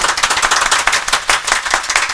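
An audience applauds at a devotional Bol Bam event for Lord Bholenath and Mata Parvati, with dense, rapid clapping that stays loud and close for the whole stretch and no talking.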